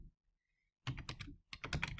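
Quick clattering keystrokes on a computer keyboard in two bursts after a short silence, close and fairly loud, with no voices.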